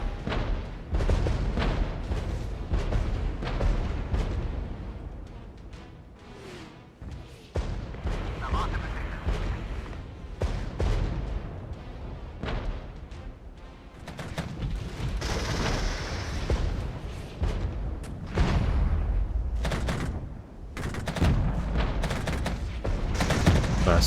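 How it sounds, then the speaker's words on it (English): Artillery barrage in the Regiments war game, with repeated booms and crackling volleys rolling continuously at loud, dense intensity across the whole stretch. "Let's drop some artillery on them."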